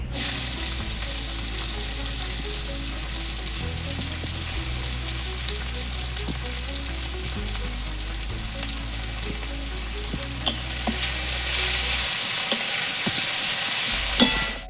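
Onions with cumin, a dried red chilli and bay leaf fry in a pan with a dense, continuous close sizzle and scattered stirring clicks under a low steady hum, with no talking.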